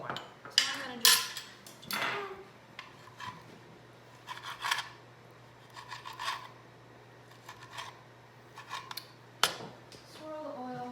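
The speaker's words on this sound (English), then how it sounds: "I buy the julienne, but I still like to cut them up just a little bit more" Knife cutting julienned sun-dried tomatoes on a board in a home kitchen, quiet irregular chops and scraping strokes spread across the stretch, with a steady low hum beneath.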